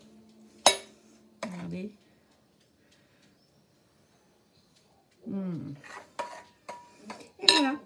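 A spoon scraping and scooping through a Thermomix chocolate cream in a bowl, with a few clinks of metal on crockery, close up, around short bursts of talk.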